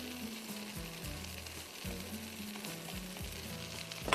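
Brown and black rice is stir-fried over high heat with a steady sizzle and repeated scraping stirs, close and fairly loud, with no talk.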